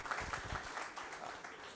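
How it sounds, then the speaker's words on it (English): A brief, fairly quiet round of applause rises from the audience at a regional quiz competition, a soft, steady patter of many hands lasting under two seconds. "the first round of applause needs to go to the audience and the people who participated in this quiz"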